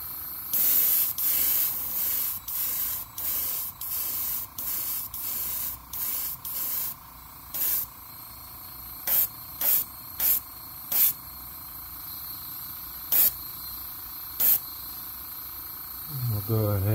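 Airbrush spraying paint onto an MB S Crank fishing lure in a craw pattern, a steady close hiss in repeated bursts of about a second, then shorter separate puffs with pauses between them.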